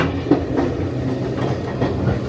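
Steam train running on the Bo'ness & Kinneil heritage railway in Scotland, heard from inside a carriage: a steady rumble with rhythmic clickety-clack of wheels over rail joints, continuous and fairly loud.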